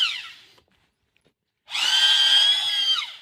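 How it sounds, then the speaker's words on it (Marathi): A homemade machine grinding flour for a papad-making business starts up with a high, whining mechanical drone that holds steady near by after a short earlier burst and a silent pause. "मशीनच्या साहाय्याने पीठ घेरणं चालू आहे"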